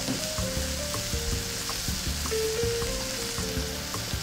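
Noodles and marinated BBQ beef sizzle steadily in a hot pan, a continuous close frying hiss with occasional utensil clinks and stirring, and nobody talks.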